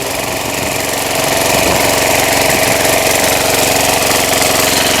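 An old ZUBR HT 135E walk-behind tractor, smoking as it runs, with its engine chugging steadily up close, rising slightly in level after the first second and holding a loud, even mechanical drone.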